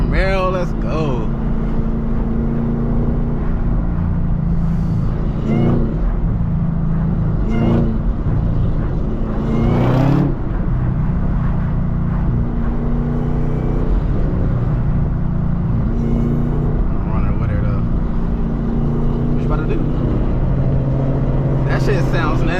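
Camaro ZL1 with a manual gearbox, its engine droning steadily while cruising at sunset, with swells of revs and passing road noise and a voice speaking over it at times.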